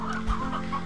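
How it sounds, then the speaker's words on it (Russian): In the video game Slime Rancher 2, a glitch spawns a huge flock of chickens, and they cluck together in a short, dense burst of overlapping calls. "у меня заспавнил просто миллион куриц. Посмотрите, просто они издают столько."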